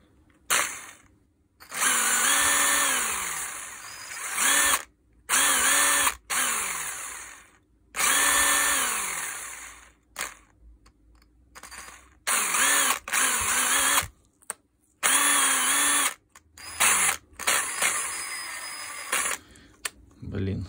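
A Makita DTW190 cordless impact wrench with a faulty trigger switch whines loudly in repeated bursts of a few seconds each. The motor keeps cutting out and restarting abruptly, with brief gaps between runs.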